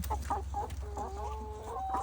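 Hen clucking repeatedly in a backyard nesting area, short close clucks in an irregular rhythm with a sustained tonal call partway through, over a steady low hum.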